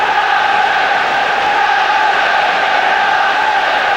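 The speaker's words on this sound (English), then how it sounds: "It's got the crowd going here." A Manchester United home crowd roars in a steady, loud, dense wall of cheering during a 1998/99 Premier League match against Chelsea, sustained without breaks.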